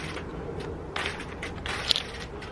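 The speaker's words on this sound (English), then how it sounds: "we can bring the chain around the FNO drive" A trike chain being threaded around the drive, making creaking metallic rattles and light clinks over a low steady background hum, with no voices.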